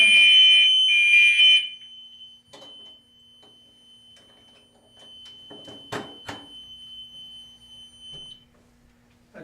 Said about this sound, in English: That's your alarm.